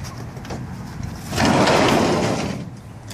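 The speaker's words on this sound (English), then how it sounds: "The sliding slide doors here." The sliding door on a 1955 Dodge mail truck rolls along its track in one rumbling, scraping slide, loud and close, after a few light knocks.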